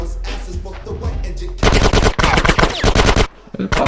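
Rapid bursts of gunfire from Grand Theft Auto San Andreas break in loudly after a quieter stretch, with dense repeated shots and a brief dip before firing resumes.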